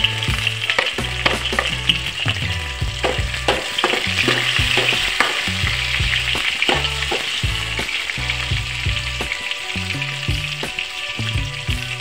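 A spoonful of cumin seeds and five or six chopped green chillies fry in hot oil, giving a loud, crackling sizzle with bursts of stirring and spatula clatter throughout.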